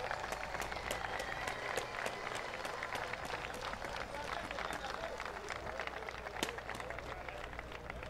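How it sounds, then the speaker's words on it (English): Spectators applaud the teams after a U16 football gold medal game in an outdoor stadium, with a steady, moderately distant patter of clapping running throughout and a few voices mixed in. "I want you to put your hands together and give them a round of applause."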